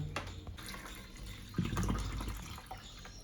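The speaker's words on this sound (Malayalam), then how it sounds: "ആദ്യം തന്നെ നമുക്ക് കരിക്കിൻ്റെ വെള്ളം ഇതിലേക്ക് ഒഴിക്കാം" Tender coconut water is poured into a vessel, a short liquid splash and trickle with a denser burst partway through, heard close up with no talking.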